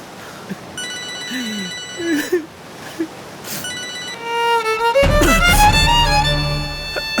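A telephone rings with an electronic, warbling ringtone in short repeated bursts that grow louder and denser toward the end, with some faint background voices in a domestic TV drama scene.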